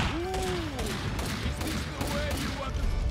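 Rapid gunfire from shooting in the Max Payne video game, a dense burst of repeated shots and thuds under a background voice, sustained across the moment.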